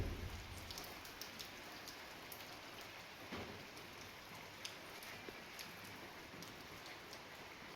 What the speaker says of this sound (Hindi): और बाहर बारिश लगी है कंटिन्यू, रुकने का नाम नहीं ले रही है।